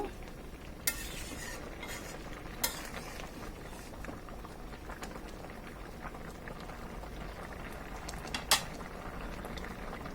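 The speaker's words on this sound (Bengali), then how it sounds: "সামান্য একটু নেড়ে চেড়ে দেব।" Ilish fish head curry with pumpkin and coriander leaves simmering and being stirred in a pot, a steady soft bubbling with faint scrapes and a few sharp clinks of the spoon.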